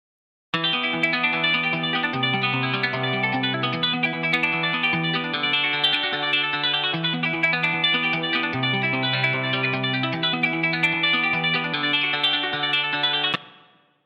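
Arpeggiated guitars, layered and treated with effects, chorus and distortion, ripple steadily through a slow build over a sustained low part, loud and continuous with no talking, then cut off abruptly near the end.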